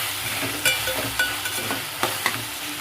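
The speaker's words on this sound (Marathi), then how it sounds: "आता आपल्याला असं भाजून घ्यायचं छान तेलामध्ये मसाला" Masala with softened onion, tomato and garlic paste frying in oil for a spinach and liver dish: a steady sizzle with a few sharp spatula scrapes and clinks as it is stirred, close and moderately loud, no talking.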